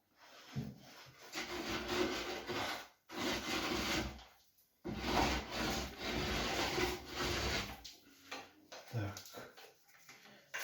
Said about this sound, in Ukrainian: Потім звичайним валіком от ми беремо і робимо таку шубку.